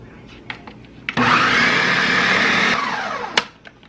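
A countertop blender whirs loudly through a creamy dip of cheese, bacon and chicken, starting abruptly, running steadily for about a second and a half and then cutting off, with light clatter before and after.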